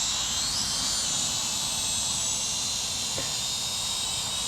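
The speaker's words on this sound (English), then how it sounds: "Hey, this is his drone" A small toy drone hovers close by, giving a steady high-pitched rotor whine with a hissy buzz that holds level throughout.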